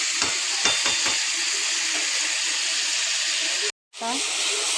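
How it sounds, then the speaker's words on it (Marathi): Onion and tomato frying in a pan for a mushroom masala, giving a steady close sizzle and hiss with a few early stirring scrapes, a brief dropout near the end, then the frying sound resumes. "कांदा आणि टोमॅटो चांगले फ्राय झालेले आहेत"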